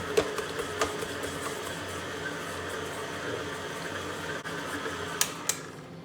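A stand mixer kneads bread dough for rolls at medium speed, giving a steady mechanical whir with a faint rhythmic knock and a few brief clicks, running alone with no talk.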